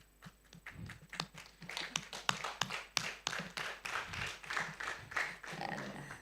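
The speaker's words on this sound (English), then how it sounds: "Kindly give a round of applause to the group number one" An audience of children and adults at an AI summit in Africa applauds a presenting group, giving a rising patter of hand claps that stays moderately loud and slightly distant for several seconds.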